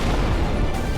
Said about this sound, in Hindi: एक तेज धमाका, आग की लपटें और चारों तरफ मातम।